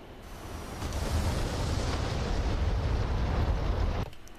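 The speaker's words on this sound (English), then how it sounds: "now releasing the bombs" Mk82 bombs dropped from an F-5E Tiger II in DCS World blast together as one sustained, loud rumbling roar that swells, holds for a few seconds, then cuts off abruptly.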